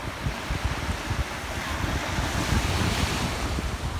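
Gentle sea waves wash steadily against the shore at a calm summer beach, a continuous soft surf hiss mixed with wind rumbling on the microphone, with no voices.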